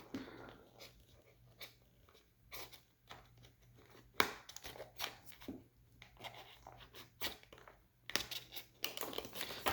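A Mini GT LB Works Lamborghini Huracan model car box being opened by hand: close, irregular cardboard scrapes, taps and tearing rustles in quick bursts, with several sharper clicks.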